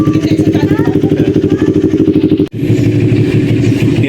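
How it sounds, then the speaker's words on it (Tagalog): A motorcycle engine idles close by while warming up, a loud, steady rhythmic putter that drops out in one brief break and then resumes just as strongly. "nagpapainit lang tayo mga bossing ng motor"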